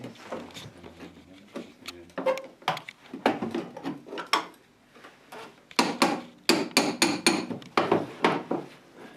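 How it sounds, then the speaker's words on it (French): Hammer tapping on sheet-metal edges during bodywork repair of a Citroën Traction, sharp metallic knocks in irregular bursts and quick runs, close and fairly loud, with brief pauses between groups of strikes. "on vient taper avec son marteau"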